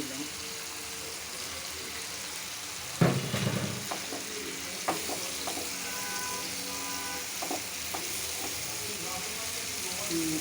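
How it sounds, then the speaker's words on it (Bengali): Tomato goes into a pan of hilsa paturi with a sudden sizzling splash, followed by steady frying hiss and a few utensil knocks, close by, while someone talks over it. "দিলাম এটা টমেটোটা দিয়ে দিচ্ছি"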